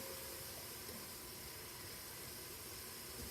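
Onions sizzle in a pan over high heat for West Texas chili, a steady, dense frying hiss that runs unbroken and fairly loud throughout with no voices.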